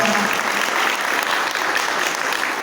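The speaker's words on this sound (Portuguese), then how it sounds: "Dê um aplauso ao Senhor pela sua vida" A church congregation at a Sunday evangelical service applauds steadily, a dense, even wash of many hands clapping at once for a few seconds, with no voices standing out.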